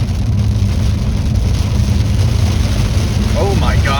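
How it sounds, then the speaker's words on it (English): Heavy rain hammering on an Audi R8 while driving toward the Arctic Circle, a dense continuous roar with road rumble underneath. "it's raining really hard"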